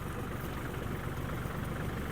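A Kubota GL-300 mini tractor with a cab runs its engine at a steady drone, its warmed-up motor humming evenly and close by with no talk.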